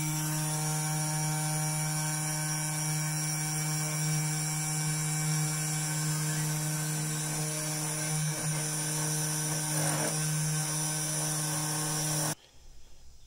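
Machine cutting a part for an e-paper clock, a steady droning hum with strong constant tones and faint scraping passes, running evenly until it cuts out near the end.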